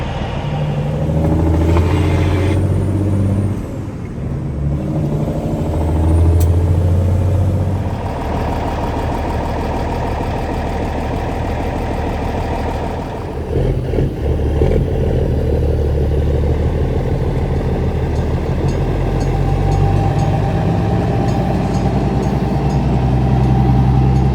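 A semi-truck tractor unit, detached from its trailer, is driven from the terminal to the shop area. Its engine rumbles and clatters low and close, easing off briefly before pulling steadily onward at a constant drone.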